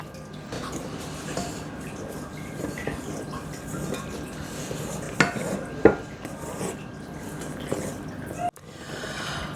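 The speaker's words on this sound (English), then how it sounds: "we can gently fold in the corn flour, vanilla, and our vinegar" Meringue being gently folded with corn flour, vanilla and vinegar in a mixing bowl, giving soft scraping and clinking of a spatula against the bowl, with a few sharper knocks near the end.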